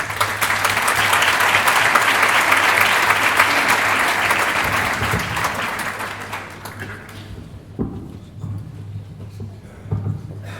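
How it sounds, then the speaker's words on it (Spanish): Audience applause at a conference talk on the family's role in rehabilitation: loud, sustained crowd clapping that fades over about seven seconds, followed by a few isolated claps and quieter room noise. "Un aplauso, venga."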